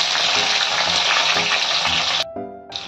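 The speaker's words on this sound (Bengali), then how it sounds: "এবার এই যে কাঁচা লঙ্কা আর পেঁয়াজ একসঙ্গে করা আছে, এই তেলে দিতে হবে।" Green chillies and onion dropped into hot oil in a pan for a prawn curry, loud continuous sizzling that dips sharply near the end and then flares back up.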